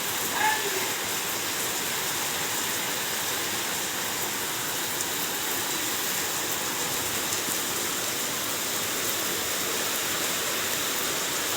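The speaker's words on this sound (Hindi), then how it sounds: "ये देखिए दोस्तों, सुबह ही सुबह बारिश शुरू हो गई।" Early-morning rain falling steadily over a village, a constant even hiss of drops with no pauses, moderately loud and close, no voices over it.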